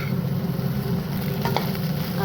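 Potatoes, onions and eggs fry and get stirred in a pan, giving a steady close sizzle with low scraping and stirring underneath and a couple of brief clinks near the middle.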